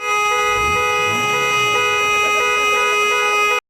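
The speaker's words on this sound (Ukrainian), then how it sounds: "Для переконливості частково перекрили рух вулицею та гуртом натиснули на клаксони." Taxi drivers at a street protest lean on their car horns together, a loud continuous blare of several overlapping horns held steadily for the whole stretch.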